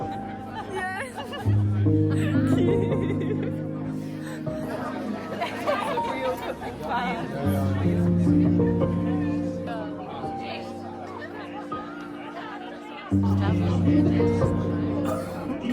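A crowd gathered in Germany for the Germany vs Scotland Euros football match, steady close chatter and laughter from many people with a loud dense babble throughout, dipping briefly before swelling again near the end.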